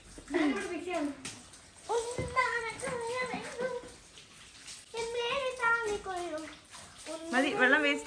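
Water splashes and runs during a car wash at home, heard beneath frequent children's chatter close by.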